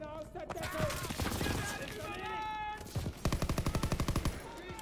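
A machine gun rattles in Call of Duty WWII, with scattered shots and effects first, then a fast, even burst of loud rapid-fire rounds near the end. Someone talks over the game sounds.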